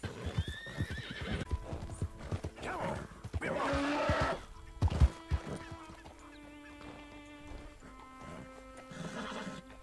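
Horse hooves clip-clop in Red Dead Redemption 2, a steady run of hoofbeats with a whinny and other game ambience, no talk over it.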